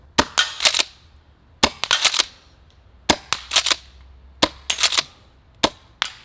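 An M870 Breacher gas airsoft shotgun fires repeatedly in sharp, snappy cracks, several volleys of three to five quick shots with brief pauses between, loud and close with no talking.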